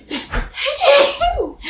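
A close, sudden sneeze with a sharp intake of breath before it, loud and abrupt, followed by a brief breathy aftermath.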